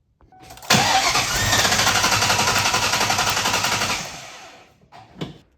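A 1997 Ford Mustang Cobra engine cranks over on the starter without firing during a cylinder compression test, a steady rapid chugging rhythm lasting about three seconds, followed by a couple of short mechanical clunks.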